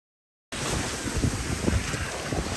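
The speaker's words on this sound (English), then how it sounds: "So sorry for the very choppy audio because of the waves crashing" Wind gusts and the surf churn at Puka Beach on Boracay in a loud, continuous roar after a brief silent start, with heavy buffeting against the microphone.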